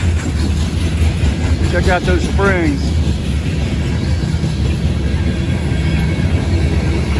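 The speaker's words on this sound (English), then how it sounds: "This is a loaded grain train." A loaded, heavy grain train rolls past a railroad crossing at night, a steady loud low rumble of rail cars running throughout the clip, with someone talking briefly over it.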